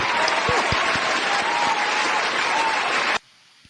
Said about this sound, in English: anytime I get a chance to play our applause button, I use it